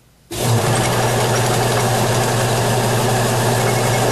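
A wood lathe turning a vase switches on at 600 RPM and settles at once into a loud, steady motor hum with a constant vibrating drone, heard close and alone after a brief moment of quiet.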